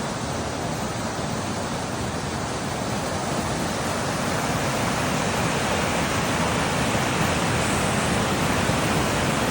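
Floodwater from spring rain in Eastern Ontario runs through a yard in a dense, continuous rushing roar that stays loud and even throughout.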